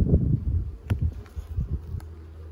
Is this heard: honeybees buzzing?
yes